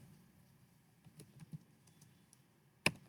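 Soft, scattered keystrokes on a computer keyboard tap out a few irregular clicks, capped by one louder key press near the end, close and quiet.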